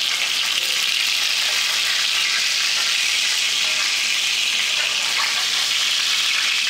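Burger patties for cheeseburgers sizzle hard in a hot pan just after being flipped, a loud, dense, steady hiss of frying fat that runs unbroken from start to finish.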